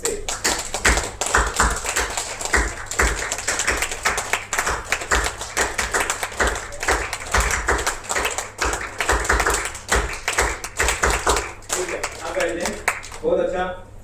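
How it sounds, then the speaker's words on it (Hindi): A crowd at a lecture hall applauds loudly and continuously for about thirteen seconds, a dense steady clatter of many hands, with a voice speaking over the clapping near the end. "एक बार खड़े हो जाएं सभी और 10 सेकंड तक तालियां बजाएंगे जोर जोर से।"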